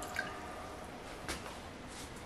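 Water being poured into a pot of turkey chili makes a faint, continuous splashing trickle, with a couple of small louder sloshes, close by and with no voices.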